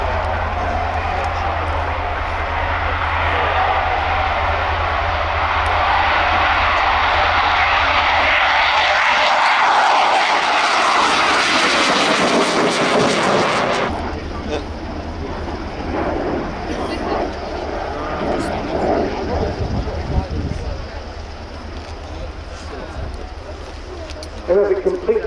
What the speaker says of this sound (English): starting its takeoff roll underneath, the Catalani Group's utterly magnificent Fiat G91R 1A